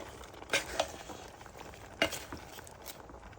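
Vegetables being stirred in a cooking pot with a soft sizzle underneath, with a few distinct clanks and scrapes of the spoon against the pot standing out from the quiet background.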